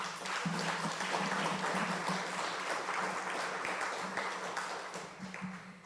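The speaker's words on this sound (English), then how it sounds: "Please, everyone, give yourself a round of applause." An audience claps in steady applause, a crowd of hands sustained for several seconds before slowly tapering off.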